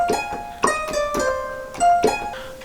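Plucked koto tones from the Xpand!2 Kotos #5 ethnic preset, a handful of bright struck notes ringing out with sustained tails, spaced irregularly across a short phrase with no voices.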